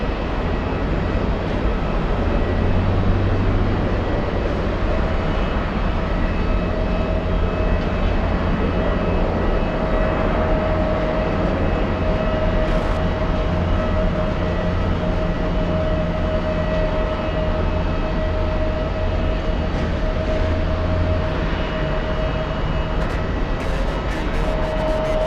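A KLM Boeing 777-200 airliner passes at JFK Airport as a steady, broad jet roar with a faint sustained whine, holding fairly even loudness throughout with no talk.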